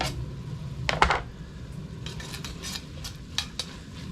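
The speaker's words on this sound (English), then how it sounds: "we're going to throw in our garlic" Garlic tossed into a pan of softened onion for a soup and stirred, giving a few close metallic utensil scrapes and clinks against the pan, with one sharper clatter early and lighter taps after.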